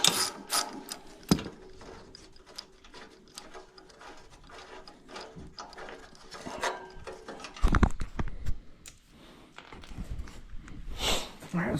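A ratchet backs out the front grille bolts on a John Deere 210 lawn tractor, giving close bursts of rapid clicking separated by brief pauses, with a few louder knocks and clatters of metal parts.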